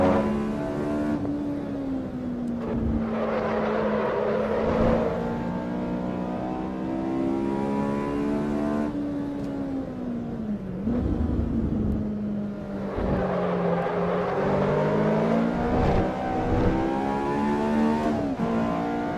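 Stock Honda S2000 engine racing in the Assetto Corsa EVO simulator, close and loud, revving high and dropping through quick gear changes, then winding back up again.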